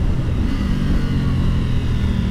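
A Triumph Tiger 900 GT Pro motorcycle downshifts on its quickshifter with auto-blipper, heard as a loud, close, steady engine drone with a low humming tone and no pauses.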